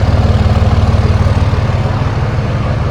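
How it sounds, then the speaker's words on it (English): A deep, throbbing diesel exhaust from a Dodge Ram 3500 pickup with a 5.9 HO Cummins engine rumbles steadily at idle, loud and close, with a regular low pulsing beat. "the exhaust, and listen how good that sounds"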